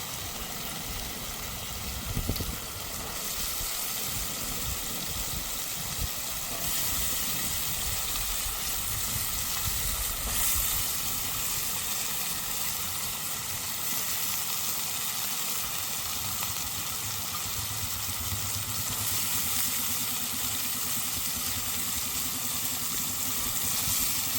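Cut potatoes and ginger fry in hot oil for an aloo matar sabzi, giving a steady, even sizzle and hiss close by, with a few faint knocks and no talking.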